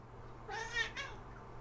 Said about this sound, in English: here comes my cat now, meowing